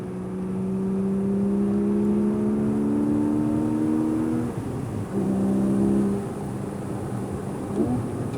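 A Porsche 718 Cayman GTS 4.0 driven on a track, its engine droning with rising and shifting pitch through gears, a brief lift and dip near the middle, then pulling hard again, loud and continuous.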